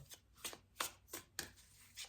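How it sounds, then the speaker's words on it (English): Tarot cards being shuffled by hand, several separate riffling bursts in a steady rhythm, close and fairly quiet, with no voices. "I want to shuffle those again."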